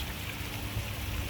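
A DIY garden pond fountain pump runs steadily, giving a continuous close bubbling, splashing wash of water with no breaks or talk.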